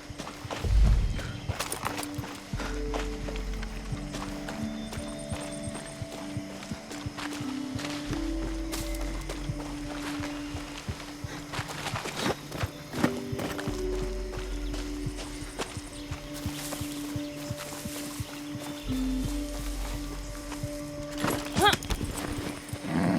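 Horse hooves clip-clop at a walking pace in Far Cry 6, rhythmic steady steps close by with occasional whinny-like sounds, game music and mechanical noises underneath.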